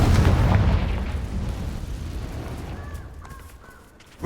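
A Confringo blasting spell explodes in the video game Hogwarts Legacy, one heavy booming blast that rumbles and slowly fades, with faint game chimes following.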